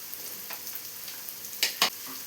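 Chopped onions with curry leaves and salt sauté in hot oil, a soft steady sizzle broken by two sharp stirring scrapes near the end.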